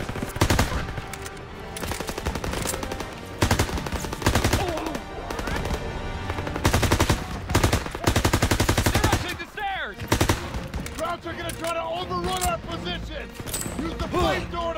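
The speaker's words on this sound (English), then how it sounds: "they need cover fire. Suppressive fire. Keep firing." Sustained suppressive machine-gun fire in the Call of Duty video game, long loud rattling bursts with brief gaps, layered under shouted voices.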